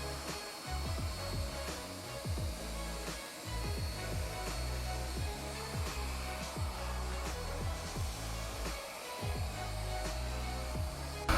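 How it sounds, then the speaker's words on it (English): A corded TOPPIN vacuum cleaner sucks up hair from the floor, a steady close motor whine that runs without a break and has a few faint bumps and rattles from the nozzle. "So we use the vacuum to clean it and see when it actually works."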